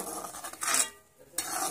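A spoon stirring shev bhaji, a spicy Khandeshi sev curry with coriander, in a pot on the stove: soft scraping and metallic clinks in two bursts separated by a brief lull, close and moderately quiet.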